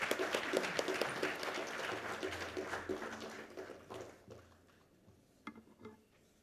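Applause from an audience at a national logistics summit, fairly quiet and dense at first, then thinning out into a few scattered claps toward the end.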